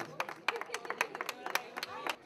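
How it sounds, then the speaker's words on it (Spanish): Scattered, uneven clapping at a charity event, Caca de la Vaca, with sharp individual claps mixed with voices talking nearby. "Un aplauso para ellos, por favor"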